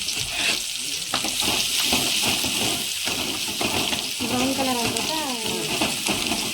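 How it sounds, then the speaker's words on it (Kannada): Onions fry in a pan in a village kitchen, a steady close sizzle with spatula scrapes, while a person talks over it. "ಮೀಡಿಯಮ್ ಈರುಳ್ಳಿ ಫ್ರೈ ಆಗಲಿ"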